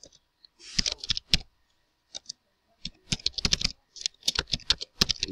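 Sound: typing HTML code on a computer keyboard

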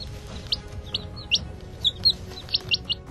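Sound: hen and chicks chirping

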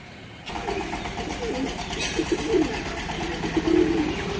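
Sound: pet pigeons cooing

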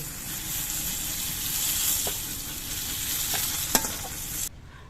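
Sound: pointed gourd frying in pan

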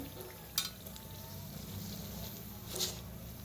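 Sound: Mangalore banana buns frying in oil

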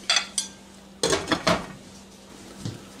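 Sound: putting the lid on a simmering pot

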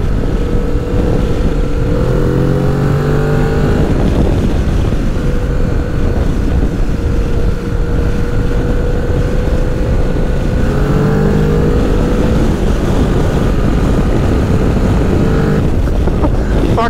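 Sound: wind noise while riding a Kawasaki Z650 RS motorcycle

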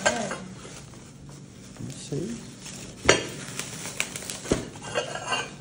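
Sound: dishes and plates being handled

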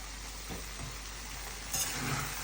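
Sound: potato filling sizzling with cumin, coriander and five-spice tempering

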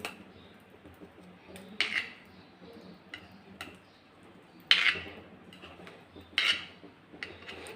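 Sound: knife cutting hot farali dhokla

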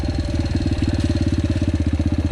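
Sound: Yamaha TTR 125L motorcycle engine running

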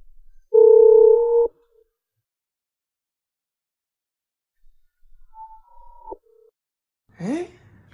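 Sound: phone ringback tone, call not answered

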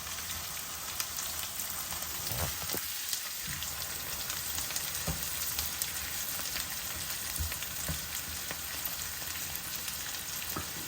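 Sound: green chillies frying in butter, stirred in a pan

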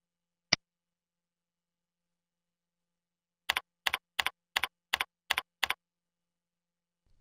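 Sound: typing a login name on a computer keyboard

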